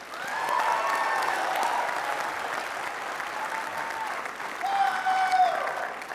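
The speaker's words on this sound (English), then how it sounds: "So with that, let's give a nice round of applause for Major Ken Chapman." An audience claps steadily at the opening general session of a world convention, giving a full, even round of applause with a faint tonal sound drifting over it.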